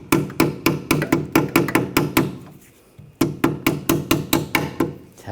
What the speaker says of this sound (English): And take the hammer, just give it a few taps.